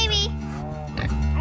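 A pig grunts and snorts close by, short rough oinks mixed with people's voices talking over them.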